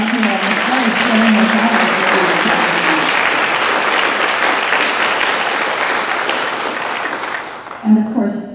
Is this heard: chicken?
no